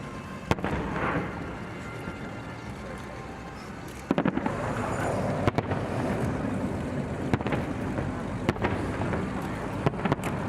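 Fireworks bursting at an evening display in Bay City, with sharp booms and crackling pops scattered irregularly through a steady roar of crowd and ambient noise, growing denser and louder partway through.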